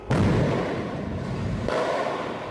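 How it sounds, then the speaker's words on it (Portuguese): Sustained heavy rumbling booms from heavy-calibre gunfire shot into the air, a dense burst of deep blasts with a second loud onset partway through, no voices. "Ele efetuou diversos disparos para o alto com uma arma de grosso calibre."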